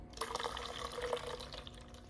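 Carbonated orange water pours off to the side from a cold can, a faint, steady liquid trickle with small splashes and drips.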